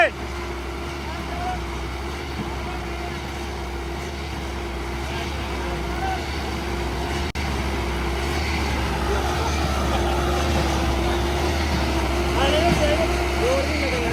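A Preet 6049 tractor straining as it pulls a trolley, its engine a loud, constant low rumble that holds steady throughout, with people talking over it.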